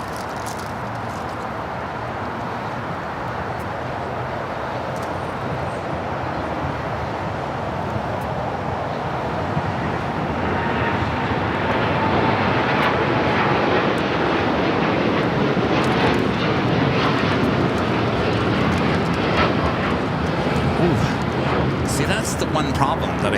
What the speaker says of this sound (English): Flight 32, United Dreamliner now rolling down 25 right.